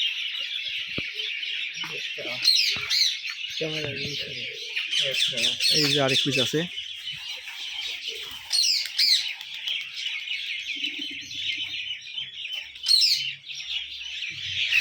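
Giribaz pigeons in a Rajshahi loft, well fed in the evening, fill the space with continuous high chirping and squawking, while someone talks intermittently nearby.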